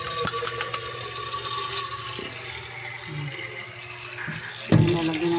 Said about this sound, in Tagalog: Lagyan mo natin ang tubig ko.